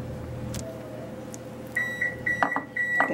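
An oven beeps in a home kitchen: after a low steady hum, a series of short electronic beeps sounds in a quick run, with a few soft knocks and clatters between them.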